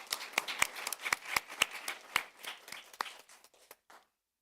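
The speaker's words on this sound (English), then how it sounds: "Let's give them all another round of applause." Applause from an audience at a board of education meeting, a run of sharp, separate claps at moderate distance that thins out and stops, with no talking over it.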